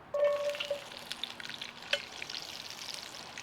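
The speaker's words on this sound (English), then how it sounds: "Now it's time to add the onions." Onions sautéing in hot oil for a boerewors stew, starting with a burst of sizzle as they go in, then a steady softer frying hiss with a brief stir clink.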